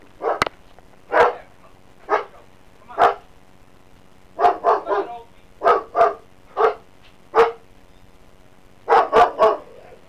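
A dog barks in short, loud bursts, about a dozen in all, some single and some in quick doubles and triples, spread across the span in an indoor setting with no talk over them.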